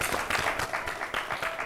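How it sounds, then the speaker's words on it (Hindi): An audience claps steadily and fairly loudly to welcome a judge, Dr. Premlata Singh, at a women farmers' awards show, a dense patter of hands that swells and dips slightly throughout. "जोरदार तालियां आपके लिए।"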